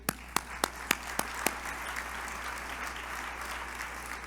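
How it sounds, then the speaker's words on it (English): Gala audience applause opens with several sharp, distinct claps in a quick rhythm, then settles into a softer, sustained patter of clapping from the room. "we can do that with a round of applause"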